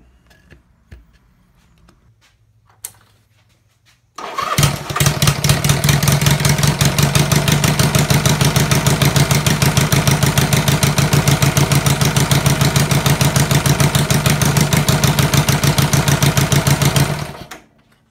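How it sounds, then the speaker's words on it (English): A Honda SL160 motorcycle engine turned over with the kickstarter, catching into a loud, fast, steady pulsing run close by that continues for over twelve seconds before cutting off abruptly. "Let's turn the motor over. I've just got my hand on the kickstarter here."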